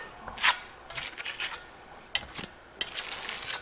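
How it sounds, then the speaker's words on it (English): A trowel drags Venetian plaster across a wall over gritty primer, making faint, close scraping and rasping strokes, a few short sharp scrapes spaced irregularly with quiet gaps between them. "That grittiness that you're hearing under the trowel, that's the primer."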